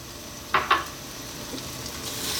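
Onion and garlic fry in olive oil for Ethiopian doro wat, a soft continuous sizzle with two sharp clatters of a pan or utensil early on.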